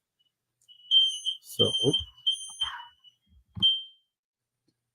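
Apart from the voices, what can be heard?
smoke/fire alarm going off in a house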